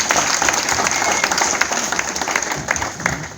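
Church congregation clapping together in a dense, loud burst of applause that carries steadily, with crowd voices mixed in.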